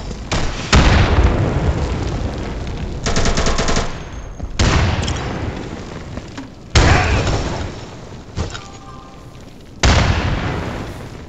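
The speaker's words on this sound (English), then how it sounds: "I'm throwing a grenade!" Gunfire and grenade blasts in the tactical shooter Insurgency, a series of loud, close bursts of rapid shots and booming explosions recurring every couple of seconds, with sustained rumbling between impacts.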